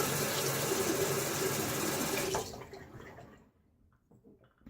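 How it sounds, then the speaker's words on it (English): Running water from a tap rinses a razor during a wet shave, a close, steady splashing flow that cuts off partway through, leaving faint drips and small clinks. "A little rinse here."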